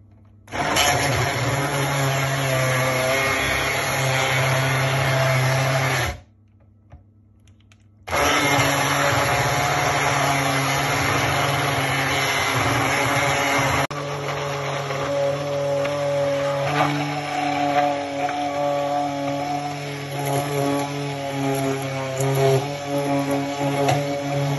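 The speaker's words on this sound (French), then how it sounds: "Et j'ai besoin d'un bon mixeur plongeant." Immersion blender whirring steadily while making mayonnaise, loud and close, cutting out briefly and then resuming with a slightly shifting motor tone.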